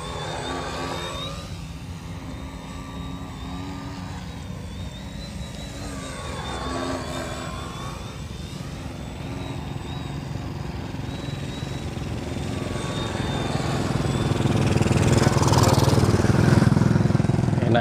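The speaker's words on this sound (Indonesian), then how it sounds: "Enak ya pesawatnya stabil, walaupun dia ini kecil lagi stabil." Small Mini Ugly Stick RC trainer airplane with a 90 cm wingspan flying low in tight circles, its buzzing engine whine rising and falling in pitch as it passes, growing louder and nearer near the end.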